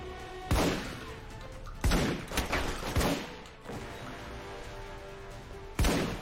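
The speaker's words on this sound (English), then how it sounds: "We heard the gunfire." Several sharp, loud gunshots in the video game Alpha Protocol at irregular intervals, a couple in quick succession, each with a booming echo over a low ambient hum.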